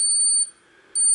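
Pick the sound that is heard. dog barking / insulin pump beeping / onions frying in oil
insulin pump beeping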